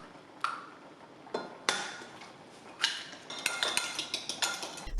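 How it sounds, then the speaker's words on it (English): Fork clinking against a dish while whisking an egg, a string of light metallic taps and scrapes that start sparse and grow faster and more regular toward the end, close and fairly quiet. "whisk up an egg or 2."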